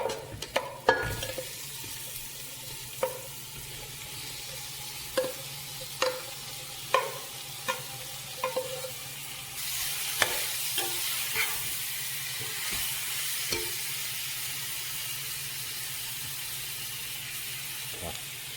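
Onions sizzle and fry in a pan for a vegetable biryani, with a steady hiss running throughout and repeated sharp scrapes of stirring, which grow into a louder, denser sizzle in the second half.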